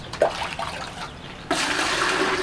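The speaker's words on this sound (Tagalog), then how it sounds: "punuin po natin to ng tubig" Tap water rushing into a container to dilute pet shampoo, starting with a few splashes and then settling into a steady, loud pouring stream.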